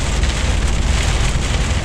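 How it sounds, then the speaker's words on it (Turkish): Rain mixed with hail pours steadily on a DAF truck driving through snow in a truck driving video game, a loud dense hiss drumming on the cab with no gaps. "Doluyla karışık yağıyor."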